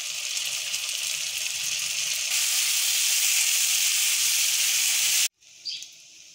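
A pan of masala made with tomato paste and ginger-garlic paste sizzles close up with a loud, steady hiss for about five seconds, then cuts off abruptly, leaving a brief, quieter sputter.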